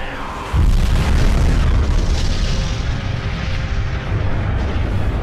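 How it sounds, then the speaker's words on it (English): A loud, sustained video game explosion erupts after a brief quieter lead-in, a deep booming roar with rumbling debris that fills the rest of the stretch without easing. "Look at the explosion!"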